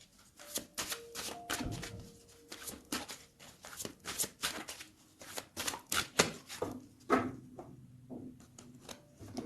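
A deck of tarot cards being cut and handled, giving a run of quick dry riffling and slapping card sounds, close and fairly loud, with little talk.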